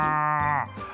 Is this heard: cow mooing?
yes